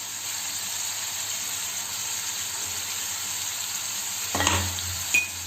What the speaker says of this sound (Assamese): মাংসখিনিৰ পৰা তেল ল'ব ধৰাত এতিয়া মই কাটি ৰখা আদাখিনি দি দিম।